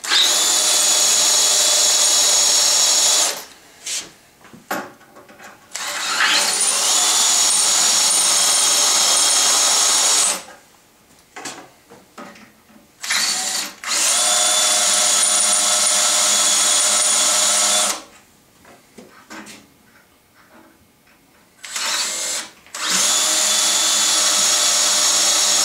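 A power drill whirs loudly in several sustained bursts, match drilling a guide rail, with short pauses and quieter clattering between runs.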